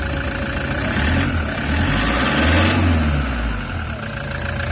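A Toyota Hiace Commuter van with a hard-starting problem runs at idle up close, a steady low engine rumble that swells briefly in the middle, with no talk heard.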